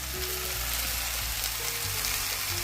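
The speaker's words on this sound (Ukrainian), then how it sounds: "Все, зараз присолимо, нехай смажуться" Food sizzles and fries steadily in a pan, a dense, continuous crackling hiss that stays close and even throughout, with no talking over it.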